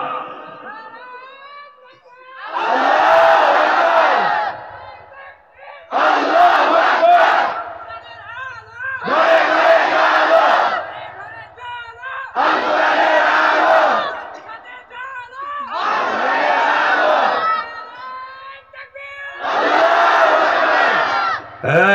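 A large crowd at a Ramadan religious sermon gathering shouts takbir in unison, six long, loud roaring chants, each lasting about two seconds and separated by short pauses.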